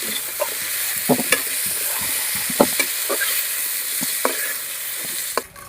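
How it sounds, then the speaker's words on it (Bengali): Potatoes fry in hot oil in a wok with a steady, bright sizzle, punctuated by scattered clinks and scrapes of stirring throughout, with no talking. "দেখুন বন্ধুরা আমার আলুগুলোও ভাজা হয়ে গেছে"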